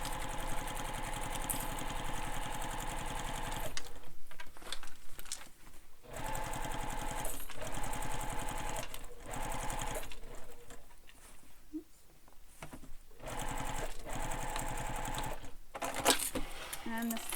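A sewing machine stitches the seam of a backpack panel in bursts, a rapid mechanical whirr that stops and starts several times, with short quiet gaps between runs.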